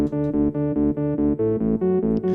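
A four-layer synthesizer sound, the intro sound of a song, plays short, evenly pulsed chord stabs in a steady rhythm, rich and layered, with a few brighter accents near the end.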